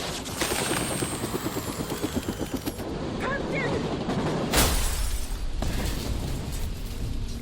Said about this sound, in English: Helicopters are coming down.